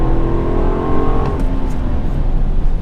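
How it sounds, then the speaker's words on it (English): A 2017 Honda Accord Touring's V6 engine revs loudly and steadily with a rising-then-settling drone, close up and continuous, with no voices over it. "Oh man, I love the way that V6 sounds."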